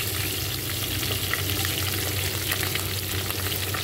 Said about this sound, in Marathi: मिरची टाकून घेऊया आपण